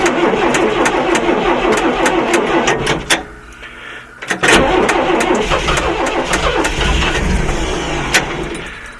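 A 1985 Clark airport tug with a propane engine cold starts: the starter cranks with rapid clicking, a brief lull, then the engine catches and settles into a loud, rough, mid-pitched idle close by.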